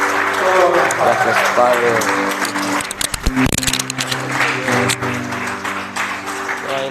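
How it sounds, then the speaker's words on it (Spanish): A congregation at a Sunday church service claps loudly and continuously, dense crowd applause mixed with voices and worship sounds, while someone speaks over it. "Dale un fuerte aplauso, Señor."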